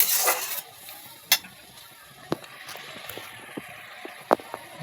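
Pointed gourd gravy sautéing in a pan, a low continuous sizzle with sharp spatula scrapes and taps against the pan at irregular intervals.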